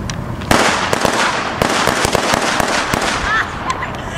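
Muskets and rifles firing in a Pickett's Charge Civil War reenactment, a rapid ragged volley of sharp cracks and pops at close to mid range, with shouting voices mixed in.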